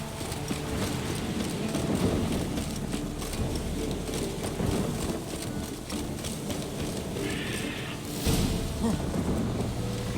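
A horse gallops in The Witcher 3, with a steady rapid clatter of hooves over a soft rushing background for about ten seconds.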